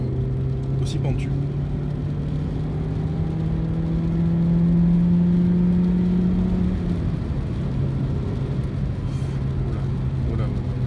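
Engine of a Peugeot 207 SW hums steadily on the Nürburgring, its pitch climbing and then easing as it runs on, a continuous in-car drone with someone speaking over it.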